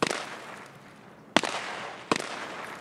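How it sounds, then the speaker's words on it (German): Gunfire in Escape From Tarkov: three sharp distant reports, each with a long rumbling echo trailing off, spaced about a second apart over steady background noise. "Alter, wer auch immer da rumschießt, er nervt."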